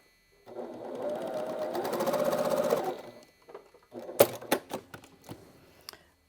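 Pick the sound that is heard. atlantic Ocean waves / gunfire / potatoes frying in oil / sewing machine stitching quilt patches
sewing machine stitching quilt patches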